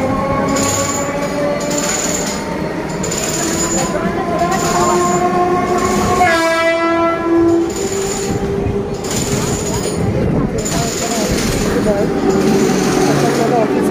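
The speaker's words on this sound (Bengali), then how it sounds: "দেখো ট্রেন আসছে, আমরা ডাউনে যাব" A commuter train pulls into a suburban Bengal railway station at office hour, its wheels rumbling loudly and steadily as a long horn blast sounds midway, amid platform noise.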